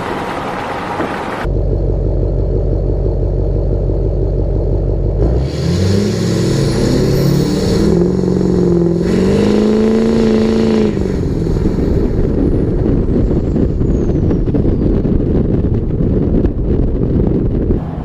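Deep, loud straight-piped Duramax diesel truck on a 5-inch exhaust, heard from inside the cab as the engine climbs through a long roll-on pull, rising then settling into a steady cruising roar with wind rush.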